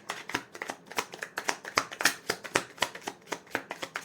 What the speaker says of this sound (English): I'm just going to get a couple more cards just to see.